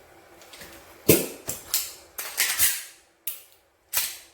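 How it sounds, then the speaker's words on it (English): A magazine is forced into a pistol grip, producing a series of sharp plastic-and-metal clicks and clacks, about eight separate impacts spaced irregularly with short pauses, close and fairly loud. "That was me forcing the magazine to go in."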